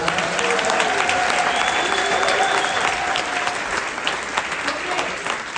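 Steady, loud applause from an audience at a presentation in a club, a sustained crowd of clapping hands that holds evenly throughout, with a voice briefly audible underneath.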